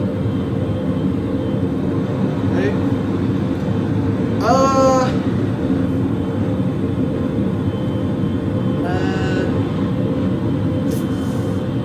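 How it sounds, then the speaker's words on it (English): Recorded airplane cabin noise plays as a steady, loud broadband roar for headphone testing, with a few brief squeaky tones rising over it and a single short spoken word. "So first up is the airplane, all max stereo."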